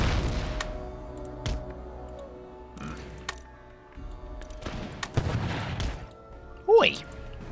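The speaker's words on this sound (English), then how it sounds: "Let's get ready to fire some canister." Cannons firing canister shot in Empire: Total War, several sharp booming shots spread across the stretch with rumbling tails, under scattered game noise.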